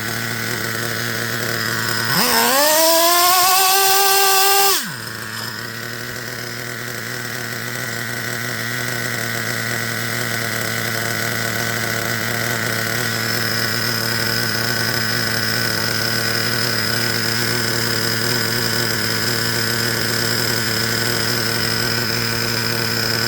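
A cold engine settles into a steady idle after a brief rev that rises and drops early on, then hums evenly and continuously at close range with no talking.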